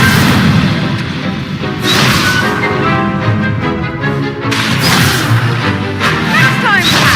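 A fire spell crackles and whooshes in the wizarding game Hogwarts Legacy, with loud crashing bursts and roaring flame surges repeating over a continuous dense game soundscape.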